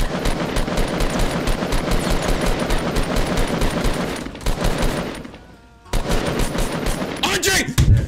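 Rapid automatic gunfire from a Fortnite battle royale match bursts continuously and loudly, pausing briefly before resuming, with excited speech mixed in.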